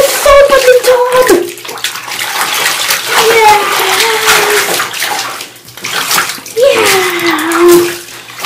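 A cat is rinsed off in a bathtub, with continuous splashing and running water throughout, loud and close, under a child's and an adult's speech and the cat's drawn-out meows.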